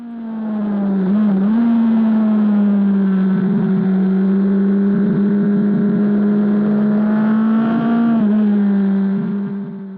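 A BMW HP4 motorcycle races around the Palmer Motorsports Park track, its engine holding a loud, steady high-revving drone close up, with brief dips and rises at gear changes and throttle shifts.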